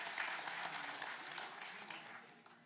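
Audience applause at a PAX West 2025 panel, a steady wash of clapping that starts loud and tapers gradually over a few seconds.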